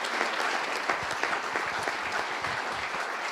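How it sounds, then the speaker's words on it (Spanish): A pastors' conference audience in Monterrey gives sustained, dense applause, loud and even throughout, with no speech over it. "le deberíamos de dar un muy buen aplauso al Señor de Señores y Rey de Reyes"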